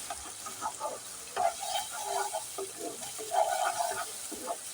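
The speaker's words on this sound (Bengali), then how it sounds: "এবার এই তেলের মধ্যে আমি দিয়ে দিচ্ছি ফ্যাটানো ডিম" Beaten egg frying in hot oil for a Chinese-style pasta, a soft, faint sizzle with intermittent stirring and scraping, fairly quiet and close.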